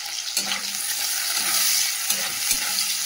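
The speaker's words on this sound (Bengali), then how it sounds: "পেঁয়াজ আর কাঁচা লঙ্কাটাও দিয়ে দিলাম। দিয়ে পেঁয়াজটা একটু নাড়িয়ে নিই" Chopped onion and green chilli sizzle steadily in hot oil, with a spatula scraping and stirring through the pan in a few short strokes; the frying hiss stays close and fairly even, with no talking.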